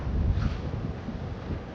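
Steady wind rushing across an outdoor microphone, a low continuous buffeting roar with no voices.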